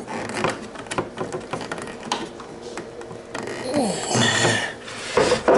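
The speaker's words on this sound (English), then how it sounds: "then we tighten up the screws until they're snug." Screws are tightened by hand into a wooden pet crate end table, producing a steady close run of creaking, rubbing and ratcheting mechanical clicks, getting louder toward the end.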